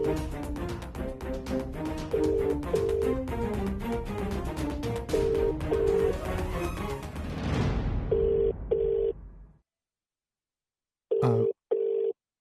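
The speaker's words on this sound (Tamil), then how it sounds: "ஃபோன் ரிங் போயிட்டே இருக்கு மேடம்." Telephone ringback tone repeating in regular paired bursts over background music, the call going unanswered, then a pause and a final pair of ring tones.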